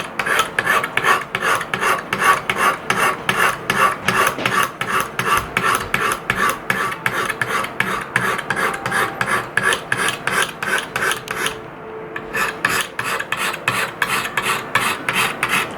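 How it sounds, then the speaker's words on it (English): A Steel Will Cutjack knife with an M390 blade being sharpened on a coarse purple Lansky stone, with fast, even, rhythmic rasping strokes close to the microphone and one short pause partway through. "This is my coarse Lansky stone, the purple one."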